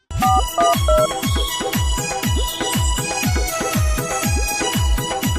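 A loud musical ringtone plays on a loop with a steady beat and repeated bass thumps, with no voices.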